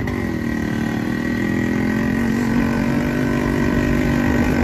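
A motorcycle engine near the gate of Pullahari Monastery, a steady, close, unbroken drone with a slightly rough buzzing edge throughout and no voices.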